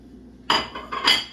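Meyer lemon zest being scraped down off a grater for pound cake batter: two quick, close metallic scraping clinks in a quiet kitchen.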